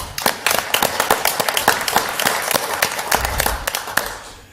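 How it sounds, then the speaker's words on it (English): Applause for the city finance department at a Casa Grande city council meeting, loud close individual claps ringing out in a fairly quick uneven rhythm over a softer bed of scattered clapping, tapering off near the end. "You should give them a round of applause, too"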